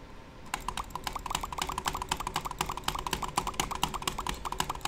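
Rapid, continuous clicking on a computer during a game, a dense run of sharp close clicks that starts abruptly and stays steady for several seconds with no voices.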